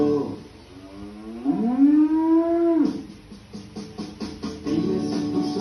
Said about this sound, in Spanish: Dime si tú sabes cómo hace la vaca, vamos a escucharla tú y yo.